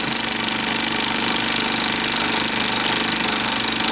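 A steady mechanical whirring and rapid clattering from a Bell and Howell 2575 16mm Filmosound projector running in rewind, loud and continuous throughout, with no voices.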